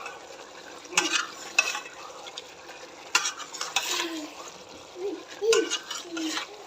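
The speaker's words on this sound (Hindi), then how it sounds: "इसको फ्राई करेंगे चिकन में डाल के।" Chicken frying in a pot with garlic and ginger gives a soft, steady sizzle, broken by intermittent scraping and stirring bursts of a utensil against the pot.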